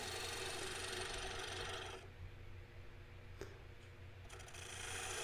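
A wood lathe spins a hickory salad bowl while a cutting tool shaves the wood, a loud dense rasping hiss over a low motor hum that drops off midway, then returns at full strength.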